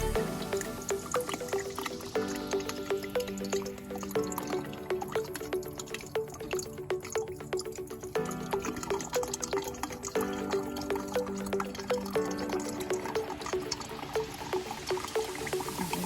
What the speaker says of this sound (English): Put it on a strainer and see how much juice comes out.